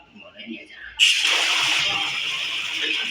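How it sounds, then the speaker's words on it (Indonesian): Water from a newly opened household tap bursts out suddenly and keeps gushing in a strong, steady, hissing rush, close by, after a brief quieter moment at the start. "Nah ini airnya hidup ya, deras. Yang awalnya tadi keluarnya kecil, sekarang udah deras."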